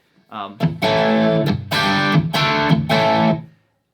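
Heavily distorted electric guitar chords through a Bogner Ecstasy Mini pedal at medium gain, four loud sustained strums in a row with short gaps, gritty and saturated.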